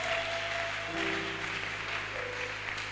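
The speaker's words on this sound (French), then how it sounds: "Acclamons très fort au nom de Jésus." Church congregation clapping and cheering at a prayer service, a dense, steady wash of applause with some voices and held tones mixed in, moderately loud and continuous throughout.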